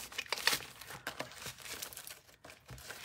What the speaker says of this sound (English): I need to grab one of my envelopes